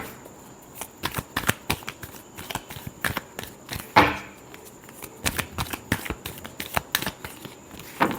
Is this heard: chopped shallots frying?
no